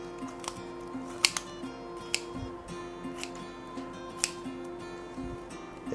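Kitchen shears cut along the spine of a raw whole chicken being spatchcocked, giving a series of sharp, irregular snipping clicks over a quiet background hum.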